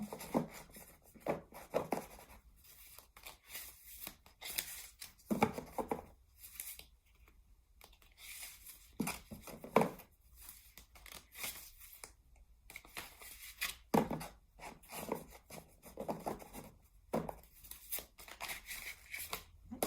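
Oracle cards are shuffled by hand in repeated bursts of crisp papery riffling and slapping, close and fairly quiet, with brief pauses between rounds and no talking.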